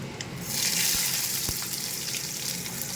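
Onion dropped into hot oil with spices and dried red chillies, a sizzle that swells suddenly after a quiet start and then holds as a steady hiss with a couple of soft knocks.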